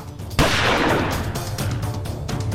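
A single loud gunshot bursts out, its boom and echo lingering over low background rumble.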